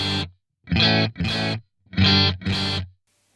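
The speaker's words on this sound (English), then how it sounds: "Let's just have a listen to it all the way up on 10. It's just going to add distortion to the repeats." Guitar notes played through an Axe-Fx AX8 delay with the grit parameter at full, five short distorted bursts with gritty, lo-fi repeats and brief silences between them.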